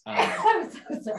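A single sneeze bursts out close by, followed at once by a brief spoken apology.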